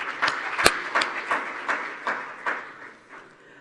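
An audience at a Commonwealth forum session on women's economic empowerment claps in a loose, steady rhythm that gradually fades out.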